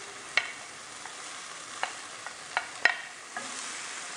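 Chopped onion sautéing in a little oil in a pan, a faint steady sizzle broken by a handful of sharp spoon-scrape and tap clicks as it is stirred.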